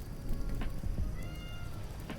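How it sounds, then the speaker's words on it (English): Pet cat meowing indoors, a short faint meow rising above a low background hum, heard once near the middle. "I don't know if you heard that, but that was Tesla's"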